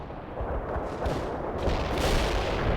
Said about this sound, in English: Our barrage hits the target.